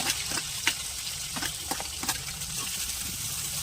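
Onions frying in oil while being cooked for an aloo matar chaat, a steady broadband sizzle with occasional soft crackles and spatters, fairly close and continuous, with no voices.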